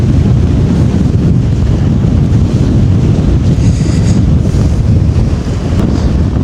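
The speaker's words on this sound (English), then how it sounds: "I'm not sure what wind speeds are, but I bet these are 30 mile an hour." Strong wind of around thirty miles an hour buffets the microphone on an exposed English hilltop near a high road, a loud, continuous roaring rush with no let-up.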